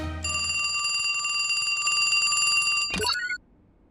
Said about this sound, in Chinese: 有电话。